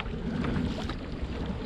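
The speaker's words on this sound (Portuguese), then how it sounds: "Tá ventando, tá ruim de remar." Gusty wind buffeting the microphone over open water while rowing a boat, a continuous roaring rush with faint splashing beneath, no voices.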